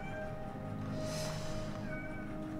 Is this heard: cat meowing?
yes